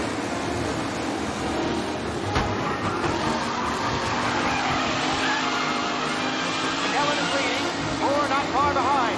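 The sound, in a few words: race cars skidding in the video game Mafia Definitive Edition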